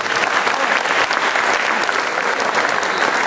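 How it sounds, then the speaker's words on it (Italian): Loud, dense applause from a crowd at an Italian awards evening, steady and sustained throughout with no voices on top. "Facciamo un bel applauso."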